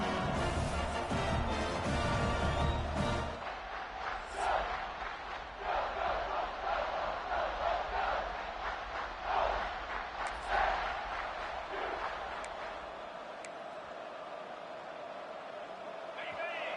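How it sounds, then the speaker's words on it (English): A loud stadium crowd in a college football video game roaring and chanting continuously, a dense wall of cheering that fades slightly over time. "Listen to the crowd energy here in the early going."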